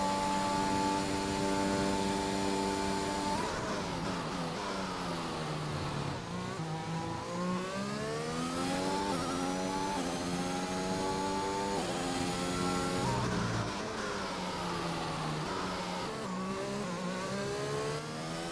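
Race car engine in the F1 2021 video game on a final lap, a loud, continuous whine that climbs and drops repeatedly through gear changes, with no talk.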